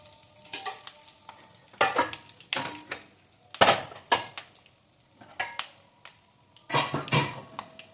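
Tempering (popu) for gongura pulihora crackles and spatters in hot oil in bursts, with loud popping clusters and short gaps between them, close up and without speech.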